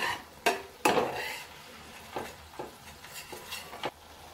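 A spatula stirs and scrapes ground masala paste through sautéed ginger-garlic paste in a pan for a clam curry: a few sharp close scrapes, then lighter rhythmic stirring strokes, with no voices.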